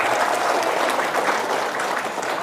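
An audience at an Islamic lecture breaks into applause, a dense, even wash of clapping that holds steady from start to finish with no voices over it.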